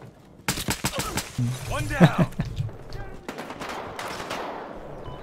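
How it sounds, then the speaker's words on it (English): Nail gun fire in the shooter game Battlefield Hardline, a burst of sharp rapid shots early on followed by scattered later reports, with excited talk from players mixed in. "First kill with the nail gun."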